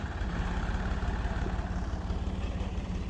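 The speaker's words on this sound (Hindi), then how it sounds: "जैसे तैसे करके इकबाल भाई ट्रैक्टर लेके जा रहे हैं" A tractor chugs along a muddy unpaved village road, its engine a steady low throbbing rumble with a fast regular pulse, fairly close and continuous, no voices.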